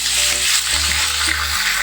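Five medium onions frying in a pan with green chillies, a steady dense sizzle close up and fairly loud, with faint stirring clinks underneath and no talking.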